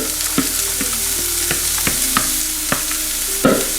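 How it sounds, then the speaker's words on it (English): Onion and carrot fry in a hot pan with a steady, dense sizzle throughout, broken by occasional sharp clicks and scrapes of stirring, with no voices. "get that nice and hot, and then add the onion and carrot first."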